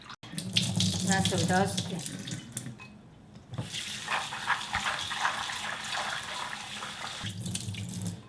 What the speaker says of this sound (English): Until water is clear, just wash this way.